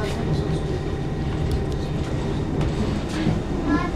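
A train pulling into Tower Hill terminus station in London rumbles steadily along the rails with faint clicks and a brief squeal, a low continuous roar throughout.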